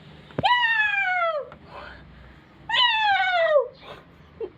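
A cat meows twice, close and clear, each call long and drawn out with a quiet pause between them and a soft small sound at the end.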